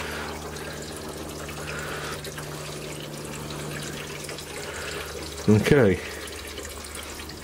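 Gasoline pours into a tank in a low steady trickle under a humming background, with a brief louder gurgling splash near the end and a voice speaking briefly.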